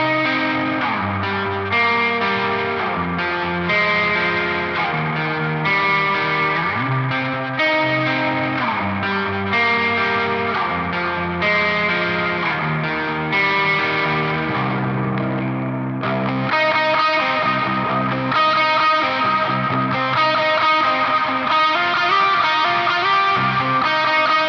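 Electric guitar run through a ProCo RAT2 distortion, Holy Island Audio Tides, Wampler Doctor Delay and UA-FX Heavenly Plate Reverb, playing sustained, dense chords with modulated shimmer and echo tails, steady and loud throughout with a brighter section near the end.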